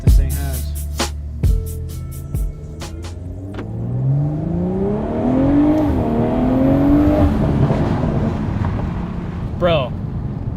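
A car engine revs hard and accelerates, its pitch climbing steadily and loudly after some clicks and knocks at the start, with a voice briefly near the end.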